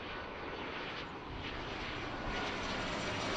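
A heavy Boeing 787 jet airliner takes off from runway 27 left at Philadelphia airport, a distant, continuous broadband engine roar that holds steady and swells slightly by the end, with no voices.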